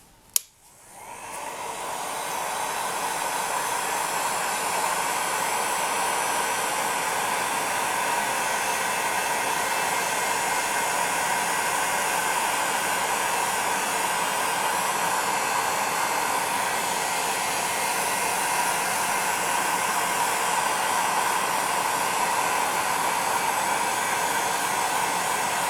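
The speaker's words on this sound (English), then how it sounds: "You can also use your heat gun again if you have a heat gun" A heat gun switches on with a click and blows onto polymer clay in a steady, close, airy hiss that continues evenly and alone for about 25 seconds.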